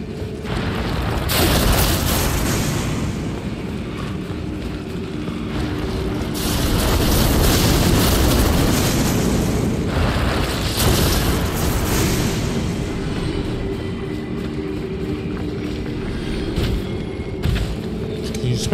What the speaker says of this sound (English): just run right past these zombies, or whatever they are, they will explode and you will take damage